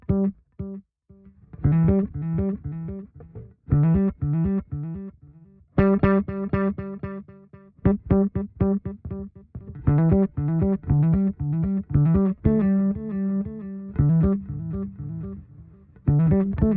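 Electric bass played through a Line 6 HX One with a ducked delay effect, the repeats swelling in between plucked phrases of notes, with steady bass lines and brief gaps, no talking.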